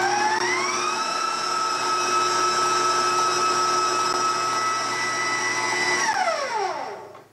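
An electric mixer whirs steadily through cream cheese velvet cake batter, a loud, close, continuous motor hum that holds its pitch and then spins down to a stop at the end.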